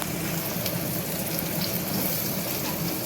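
Chopped onions fry in a pan for a Bengali fish-head and cabbage dish, giving a steady, loud sizzle with soft scraping as a spatula stirs them, close up and without talk.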